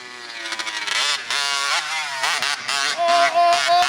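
An RCMAX 80cc gas engine in an RC monster truck at full throttle, a loud raspy two-stroke buzz that rises and falls in pitch as it revs, close and sustained.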